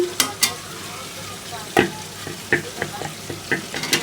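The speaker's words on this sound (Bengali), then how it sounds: "মাংস থেকে কিন্তু তেল বেরিয়ে আসছে আর এই পর্যায়ে আমি এখন দিয়ে দেব আলুগুলি" Large cut raw potatoes dropped into mutton frying in its released fat in a pot: a quiet sizzle broken by several sharp clunks and knocks, then lighter clatters as they settle.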